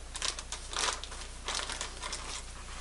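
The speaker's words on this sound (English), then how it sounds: "Let's get some of these pretty blue Lowe's scissors here. Let's just go right across here." Scissors cut open the plastic packaging of a Hatsun Edge 22 air rifle, close crinkling and crunching of stiff plastic in short bursts.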